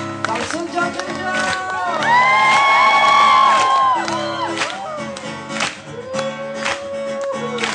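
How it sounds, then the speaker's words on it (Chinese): A live concert audience cheers, whoops and screams after a song, loud and close, with scattered clapping and excited shouting voices that swell in the middle and then ease off. "掌声加尖叫！"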